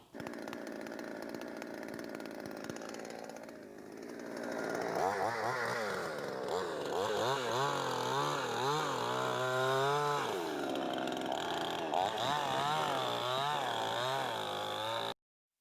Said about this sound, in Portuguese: o primeiro som que vocês escutaram foi de uma motosserra